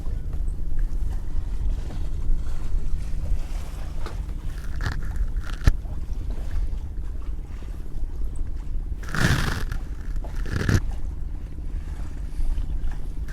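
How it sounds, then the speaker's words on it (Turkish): Steady wind and washing water at sea aboard a sailboat, with a low constant rumble and a couple of louder gusts or splashes rising briefly toward the end. "dalgaların rüzgarın ve huzurun sesini duyabiliyor musunuz?"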